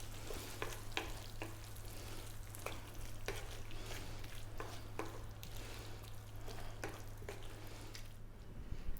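Fresh coriander, about half a cup, is stirred into a simmering double onion lamb curry (lamb dopiaza). A spoon scrapes the pan in steady repeated strokes over a soft, continuous sizzle, close and moderately quiet.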